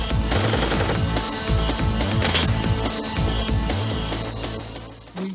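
Sustained bursts of automatic machine-gun fire during a close-range firefight among caves, loud and dense throughout, with overlapping rapid shots and a heavy, rumbling low end.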